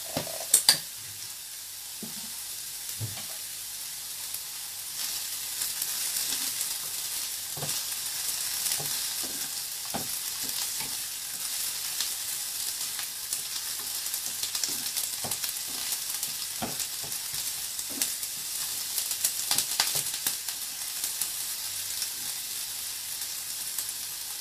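Chutney ingredients sautéing in a kadai, a steady bright sizzle running throughout with scattered scrapes and taps of the stirring spoon, near and without talk.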